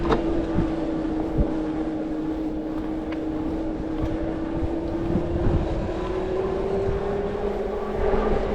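Rad Power Bikes RadWagon 5 electric cargo bike being ridden, a steady low hum of motor and road with rushing wind noise throughout, constant and fairly quiet, no talk.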